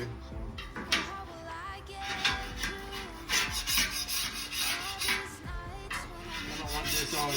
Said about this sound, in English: I'm gonna clean all this up right here and get ready to bring the rice out. But I need to scrape all this up